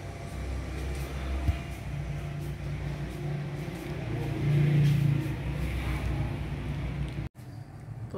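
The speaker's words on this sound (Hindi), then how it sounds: "साथ रोड है और ट्रैफिक हर वक्त की गुजरती है।" A busy road runs right alongside a house, and its passing traffic makes a steady low rumble with a brief louder swell midway. The noise stays continuous and moderately loud, with no talking over it.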